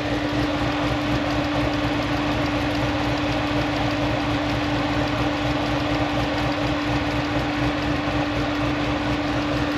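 Cammed 2017 Corvette C7 Z51 V8 idling at operating temperature, heard up close in the engine bay as a steady, continuous low rumble with an even drone throughout.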